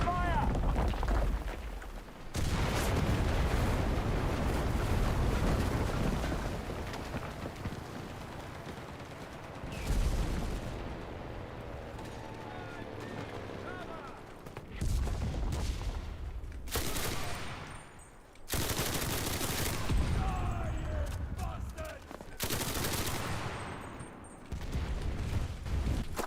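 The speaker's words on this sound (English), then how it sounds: "Artillery! Fire!" Artillery fire booms repeatedly in heavy, loud bursts with dense rumbling barrages and short gaps, while voices speak intermittently over the noise.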